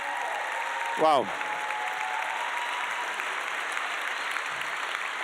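A crowd applauds steadily at a charity dinner for puppies, a dense, even patter of clapping that carries on throughout, with one brief voice calling out near the start.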